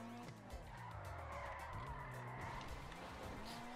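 A car drifting around a corner in GTA V, a steady engine drone under a long smeared tire squeal that holds through the turn, fairly close and continuous.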